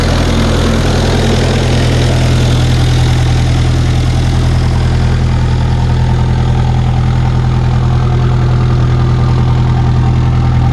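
A 1984 Ford Ranger diesel pickup idles just after startup, a loud, close, steady low clatter and drone holding an even rhythm throughout with no talking.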